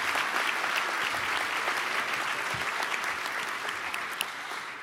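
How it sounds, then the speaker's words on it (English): Audience applause for the mayors at a business economic forecast breakfast in San Francisco, a dense sustained roomful of clapping heard at steady volume and slowly tapering toward the end, with no speech over it. "so let's have a round of applause for our mayors."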